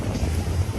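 Steady wind noise at a sunny Techno windsurfing championship venue in Cyprus, a continuous low buffeting rumble across the microphone with a faint watery wash, no talk.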